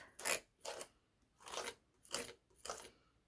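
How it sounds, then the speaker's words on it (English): Excess paint is scraped off a stencil in five short, rasping strokes with brief pauses between them, close and fairly quiet, with no talk. "Push it down into the stencil and just kind of scrape it off."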